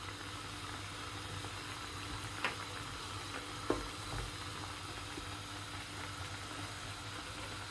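A pot of oil-free ash plantain curry bubbles and simmers steadily with a soft, continuous sizzling hiss, broken by a couple of faint clinks.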